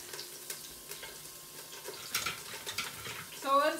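Beef bones browning in hot beef tallow in a pot for bone broth, a steady close sizzle with scattered crackles and spatter bursts, plus a brief metallic scrape near the end.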